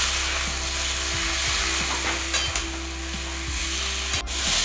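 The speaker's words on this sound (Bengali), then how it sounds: "এবার জিরে, আদা, রসুন, পেঁয়াজ বাটাগুলো দিয়ে দিল। এবার কষিয়ে নেবে।" Cumin, ginger, garlic and onion paste with turmeric sizzles in a pan under a steady hiss, with irregular scraping stirs knocking against the pot, close and fairly loud with no voices.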